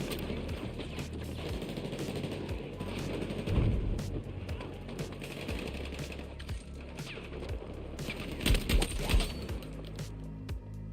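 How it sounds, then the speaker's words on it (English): Gunfire in Battlefield 6 during an assault-class match, with a shotgun and other weapons popping in rapid, scattered shots amid busy game noise and occasional faint talk. "This shotgun is popping."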